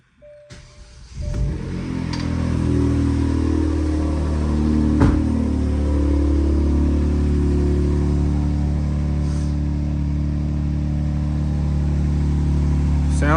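Genesis G70 with DCSports downpipes idling and revving up, a steady close engine drone that holds loud through most of the stretch after a sharp start, with one brief pop midway.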